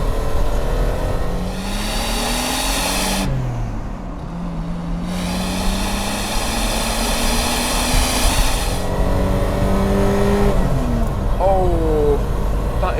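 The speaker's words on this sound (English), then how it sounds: "let's see if that BMW Straight 6 magic is there" A 1970s BMW straight-six car accelerates hard through a dropped gear, its engine note rising in long sweeping pitch climbs with a brief lift between pulls, loud and close throughout.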